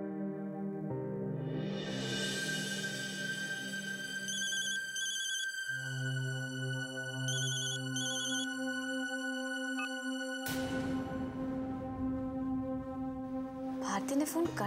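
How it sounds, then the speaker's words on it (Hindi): An electronic ringback tone beeps in steady repeating pulses, followed by a sustained tone and a sudden burst of noise near the end. "भारती ने फोन कट कर दिया या फिर नेटवर्क प्रॉब्लम है।"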